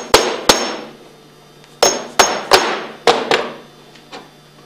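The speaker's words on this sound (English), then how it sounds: "gradually work the inlet manifold off with a rubber hammer and gently pry" A rubber hammer strikes the inlet manifold of a Hypro 2535S triplex plunger pump in sharp, close taps, singly and in quick pairs, with short ringing decays and no talking.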